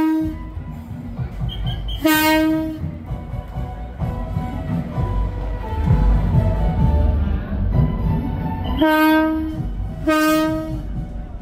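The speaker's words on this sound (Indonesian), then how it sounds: "Ini eksibisi pertama yang masuk adalah lokomotif listrik zaman Belanda seri ISS 3201 alias bonbon." An electric locomotive from the Dutch colonial era, series ESS 3201 known as 'bonbon', arrives during a 100-year commuter rail parade, with loud horn blasts at about 2, 9 and 10 seconds over rumbling rail noise and a crowd.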